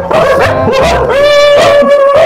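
A dog barks and howls close by, drawn-out whining yelps rising and falling in a continuous, loud string.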